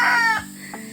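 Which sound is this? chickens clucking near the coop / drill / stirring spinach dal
chickens clucking near the coop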